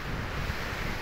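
Meltwater rushes out of the Gaumukh glacier in the Himalayas as a steady, dense roar, with wind buffeting the microphone and no voices.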